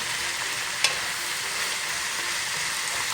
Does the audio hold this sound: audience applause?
no